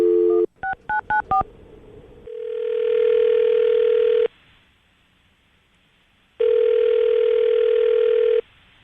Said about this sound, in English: we're going to call her right now and see if we can get her on the phone